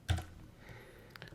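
An email body is typed on a computer keyboard: one sharp key clack followed by a few lighter, sparse taps nearby.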